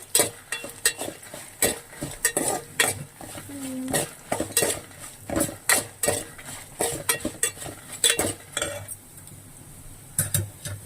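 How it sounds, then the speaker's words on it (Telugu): Coriander seeds fry in a pan while being stirred, giving frequent close metallic scrapes and clinks over a faint sizzle, in an uneven rhythm. "ధనియాలు వేసుకొని ఫ్రై చేసుకోవాలండి"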